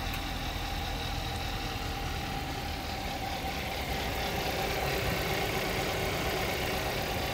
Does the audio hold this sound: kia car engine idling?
yes